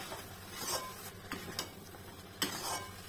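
A spoon scrapes and clinks softly in a pan as paneer and peanuts are stirred into spinach upma, with several light irregular knocks, quiet and close.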